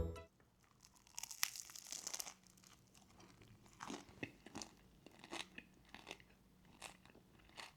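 Loud crunchy bites and chewing of a sandwich made with toasted bread, sausage, peanut butter and Doritos, with crisp crackling bursts followed by a steady run of smaller chewing crunches, close up and alone.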